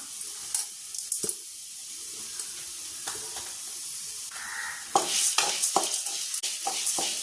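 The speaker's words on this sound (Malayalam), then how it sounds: "ഇനി നമുക്ക് നല്ലതുപോലെ ഒന്ന് വറുത്തെടുക്കാം" Wheat grains roast in a pan while being stirred, giving a steady dry hiss with scattered scraping clicks that grow louder and busier in the last couple of seconds.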